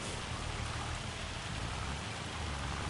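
Steady, dense rainfall in Farming Simulator 25 on PS5 hisses evenly and continuously, a close, unbroken wash of sound with no voices.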